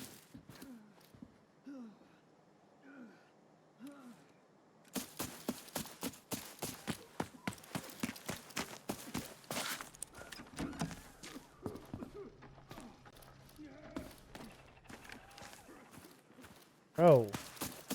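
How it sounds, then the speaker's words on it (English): Footsteps in a pistols-only extraction shooter game patter in a quick rhythmic run of soft thuds after a quiet opening, with faint breathy voice sounds and a sharp burst near the end. "Why do I hear footsteps?"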